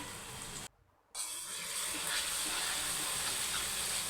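Cumin seeds hit a hot pan of spiced cabbage with turmeric and crushed coriander, giving a quiet, steady hiss and sizzle that drops out briefly near the start and then carries on evenly.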